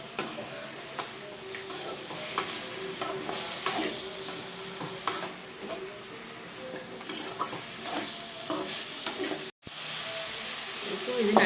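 Indian pennywort greens (vallarai keerai) being stirred and sautéed in a pan, giving a steady low sizzle broken by repeated scraping and clinking from the spoon, close by, with a brief dropout near the end.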